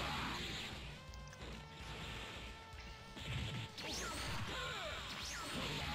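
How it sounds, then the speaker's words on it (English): Fighting sounds from a Dragon Ball video game battle: repeated smashes, impact thwacks and whooshing swipes from rapid strikes and counters, layered over a busy game soundtrack, moderately quiet overall. "Lots of smashes and counters from Burter."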